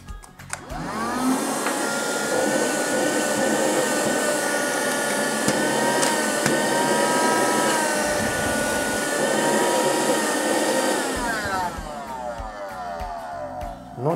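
A small Alca 12V car vacuum cleaner for wet cleaning whirs steadily at close range with a high-pitched motor whine, then winds down near the end.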